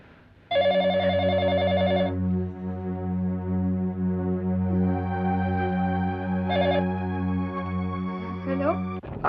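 A telephone rings loud and close with a steady electronic trill, rings again briefly several seconds later, and a low steady hum runs underneath throughout.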